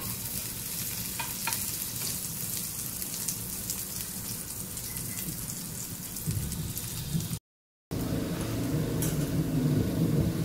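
Green chilli and garlic frying in ghee with cumin for masala pav, a steady close sizzle and crackle with occasional stirring, continuous throughout apart from a brief cut near the end, no talking.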